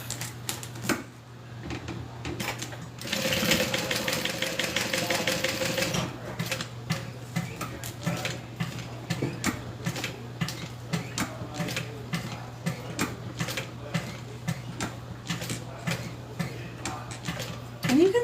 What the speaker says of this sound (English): My sewing machine just goes so fast sometimes.